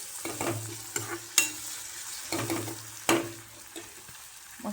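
Onion and tomato sizzle in a tempering of oil with cumin and curry leaves for an amti curry, a quiet steady hiss broken by a couple of sharp spoon knocks and stirring scrapes.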